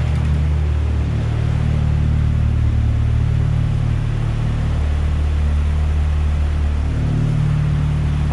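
Fully built Mazdaspeed 6 engine fitted with a PTE 6062 turbo running at its first start-up, a loud steady low idle rumble that holds throughout, close by with no talk.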